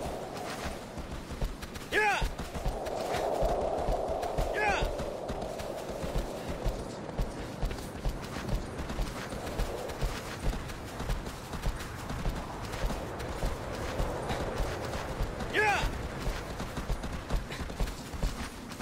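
Horse hooves clip-clopping at a steady walking rhythm in Shadow of the Colossus, the gameplay clip-clop running throughout alongside faint ambient tones and a few sharp higher accents.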